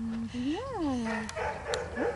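A male puppy meeting sheep for the first time gives a rising and falling whimpering whine, then a short yip, close and fairly loud over faint background voices.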